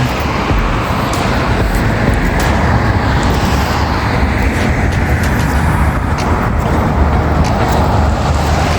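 A motorcycle rides along a road, its engine drone and wind rush loud, close and constant throughout, with no talking.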